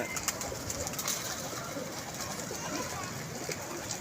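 Desi-type pigeons at a pigeon club loft coo softly amid a steady, dense wash of background noise, with no clear voices standing out.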